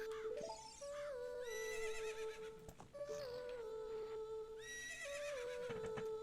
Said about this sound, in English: I'm gonna steal the horse.